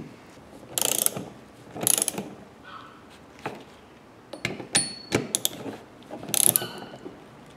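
A torque wrench on an MR2 gives sharp metallic ratchet clicks while bolts are tightened, in short separated bursts with quiet gaps between, close up and with no voices.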